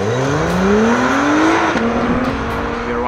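A Honda twin-turbo hybrid sports car on a race track accelerating hard, engine pitch climbing steadily through a gear change and rising again, loud and close, a smooth high-revving howl with no talk.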